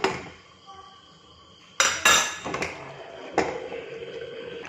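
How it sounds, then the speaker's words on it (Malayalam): A lid clanks onto a cooking pot holding a pumpkin and cowpea curry: two sharp metallic knocks a couple of seconds apart, with faint kitchen clatter and ringing between them in a quiet room. "ഇനി അടച്ച് വെക്കാം."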